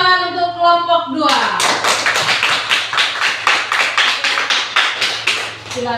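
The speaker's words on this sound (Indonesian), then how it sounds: "beri tepuk tangan untuk kelompok 2" A classroom of students gives rapid, sustained applause for a student group, with dense clapping right after a brief spoken line, continuing steadily at moderate loudness.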